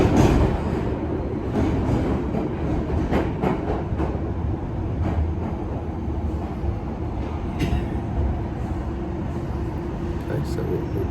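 A London Underground Piccadilly line train running through the tube, a loud steady rumble with rattling and clicks from the wheels, heard from inside the carriage.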